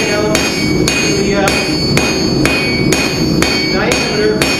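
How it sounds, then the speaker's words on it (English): Blacksmith's hammer striking hot steel on an anvil while drawing a deck-rail hook to a tapered point, nine sharp ringing blows in a steady rhythm, close and loud over a constant background roar. "Take it down to a point at the end by working the end, rotating it 90 degrees on every hammer strike"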